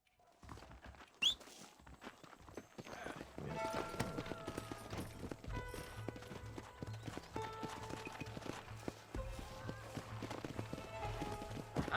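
Horse hooves clip-clop at a running pace in the Red Dead Redemption video game, steady and prominent against background game music, with a brief whinny-like sound near the start.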